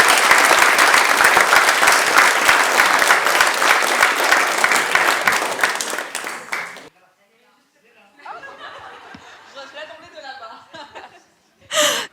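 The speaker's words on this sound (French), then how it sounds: "sous un tonnerre d'applaudissements, je vous propose d'accueillir Jennifer." Loud, sustained applause and cheering from an audience welcoming a candidate at the 2024 FME eloquence contest final in the French Senate. It fades out after about seven seconds, and quieter murmuring and movement follow.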